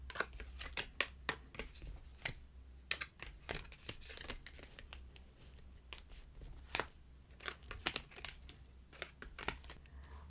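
Tarot cards shuffled and drawn by hand for a solo love reading, a quiet run of crisp, papery flicks and snaps in uneven bursts, close up with no talking.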